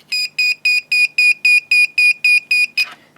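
A car warning buzzer sounding about eleven short, evenly spaced beeps in a steady rhythm, loud and close, with no talking.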